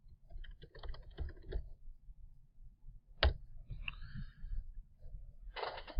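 Sparse, quiet keystrokes on a computer keyboard as a search is typed into a search bar, with a few isolated clicks over a faint background and no talking.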